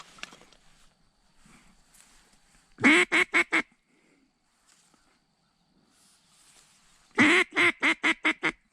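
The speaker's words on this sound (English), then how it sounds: "Landed with the wood ducks." Wood ducks quack during a Minnesota teal season hunt. Two loud, close bursts come in quick rhythmic runs of four or five calls each, separated by quiet stretches with faint rustling.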